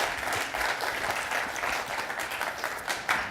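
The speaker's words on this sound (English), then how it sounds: "We can do golf clap as they're coming up." Soft, polite golf clap from a conference audience at an industry summit, a steady patter of many hands lasting a few seconds at moderate level with no voices.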